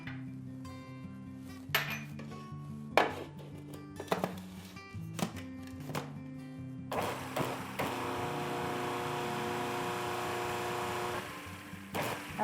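Spices being stirred into a mixing bowl for Southern cheese straws, with scattered close clinks and scrapes against the bowl, then a steadier rasping stir, and no talking.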